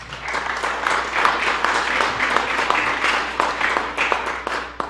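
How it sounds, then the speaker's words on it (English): Audience applause at an Essex Freeholders presentation honoring state champion athletes, a sustained crowd of many hands clapping steadily and fairly loudly for about five seconds. "I think that deserves a round of applause"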